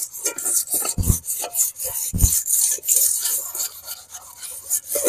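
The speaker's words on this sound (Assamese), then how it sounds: "ঠিক একেদৰে মই কেৰাহীটো খহি পেলাই আপোনালোকক দেখুৱাই আছো" An aluminium kadai being scrubbed clean by hand, a steady abrasive rubbing and rasping in repeated strokes, close and fairly loud, with a few heavier scraping knocks.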